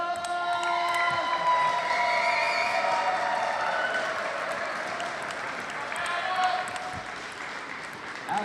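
Crowd applause and cheering fill a table tennis arena as a top-ranked U.S. player is introduced, loud and sustained throughout with a steady wash of clapping and shouts, tonal music or horn lines running underneath.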